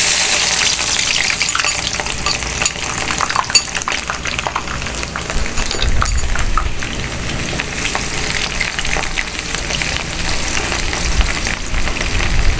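Chopped onions drop into a pan of a full cup of fully heated oil and sizzle loudly and continuously, with a utensil stirring and clinking against the pan now and then, close and with no talking.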